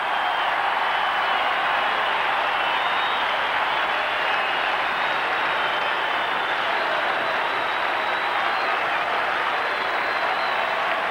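Large football crowd roaring from the Richmond Tiger cheer squad at the MCG during the 1990 Richmond v Carlton match, a continuous, dense, distant wall of cheering and applause.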